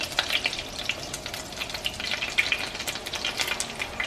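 Sauce for shrimp linguine sizzles in a pan while being stirred continuously, a bright crackling fry with quick bubbling pops and light stirring, close and steady for a few seconds.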